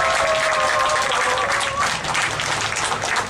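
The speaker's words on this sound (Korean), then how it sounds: "다시 한번 힘찬 박수 부탁드리겠습니다" Sustained crowd applause at an outdoor labor union solidarity rally, a dense steady wash of many hands clapping for several seconds with no voices on top.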